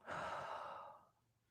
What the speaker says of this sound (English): take a deep breath out